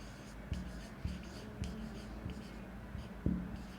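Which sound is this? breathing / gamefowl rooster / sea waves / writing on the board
writing on the board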